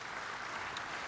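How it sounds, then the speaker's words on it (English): Audience at an awards dinner applauding, a steady hiss of many hands clapping heard briefly and at low level with no voices on top. "I think that deserves a round of applause"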